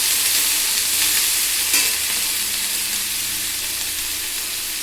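Ginger, garlic and onion paste sizzling hard in a hot pan as it is stirred, a loud, steady, close frying hiss with no voices.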